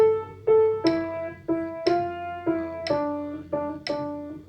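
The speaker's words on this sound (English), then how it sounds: "the first line played in swing eighths would sound like this" A Dorian exercise line plays in swing eighths, a series of clear, plucked melodic notes with sharp attacks and decaying tones, lilting long-short rhythm, close and moderately loud with no talking.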